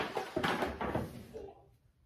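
A house door opens as a child comes in, a few knocks and thuds of the door and handle close by, fading to quiet after about a second and a half.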